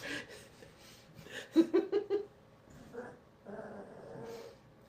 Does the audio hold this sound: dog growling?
yes